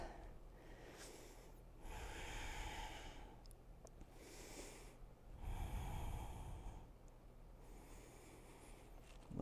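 Slow, steady breathing during a yoga standing split, with long audible inhales and exhales alternating in a calm rhythm, close and fairly quiet.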